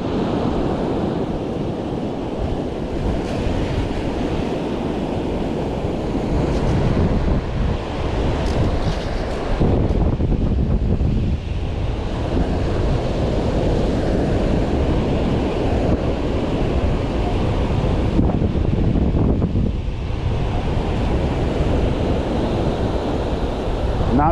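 Ocean waves break steadily on a white-sand beach, a continuous loud surf wash with wind buffeting the microphone and no voices.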